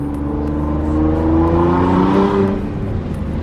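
A Nissan GT-R on new wheels and Mickey Thompson tires pulls hard, its engine revving loud and close in a rising then falling drone for a few seconds, with no talk over it.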